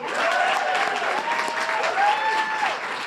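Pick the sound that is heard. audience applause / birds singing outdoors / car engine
audience applause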